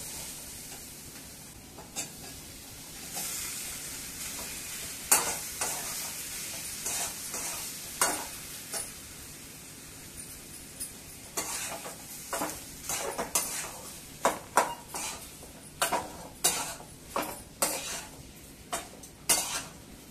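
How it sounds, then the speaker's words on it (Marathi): Potatoes being stirred and fried in a pan for Maharashtrian potato bhaji, a soft background sizzle under repeated sharp scrapes and knocks of a spoon against the pan, growing more rhythmic and frequent toward the end. "आता आपण त्याच्यामध्ये छान पैकी परतून घेऊया आणि त्याच्यामध्ये आपण बटाटा टाकूया।"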